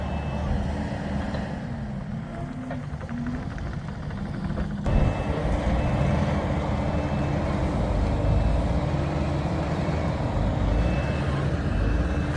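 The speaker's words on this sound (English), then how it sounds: "They got a skid loader on the back and a skid loader on the front." Two skid loaders, one at each end, move a shed across a construction site. Their diesel engines produce a loud, steady drone that surges slightly partway through and continues without a break.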